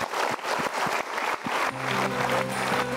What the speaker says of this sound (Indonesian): Kita berikan tepuk tangan dulu sebentar.